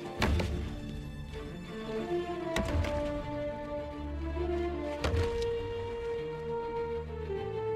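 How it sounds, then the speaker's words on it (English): Bighorn sheep rams battle for breeding dominance in the northern Rockies, their horn clashes landing as three sharp, loud cracks spaced a few seconds apart over steady orchestral music. "Bighorn sheep battle for breeding supremacy."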